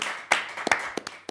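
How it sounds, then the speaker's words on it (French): Studio audience in a French television sports talk show clapping for guests, a handful of sharp, scattered claps rather than full applause, close and brief. "On peut les applaudir."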